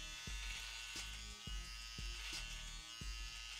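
A zero-gap electric beard trimmer runs with a fast blade, making a steady close motor buzz. Short thuds and shifts in tone recur about every half second to second as it moves through hair.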